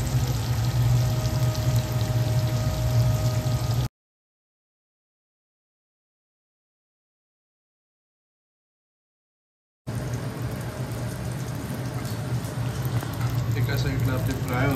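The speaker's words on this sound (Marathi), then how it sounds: "एका साईडला आपली फ्राय होते" Fish sizzling in hot oil with garlic in a pan, a steady loud crackle and hiss that breaks off into silence for several seconds, then resumes just as steadily.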